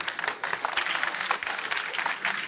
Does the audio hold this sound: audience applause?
yes